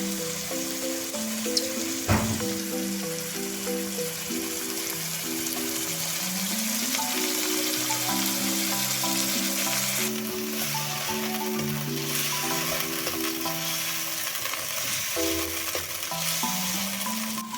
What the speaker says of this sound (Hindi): अब 2 से 3 मिनट तक इन सब्जियों को मजीद फ्राई करना है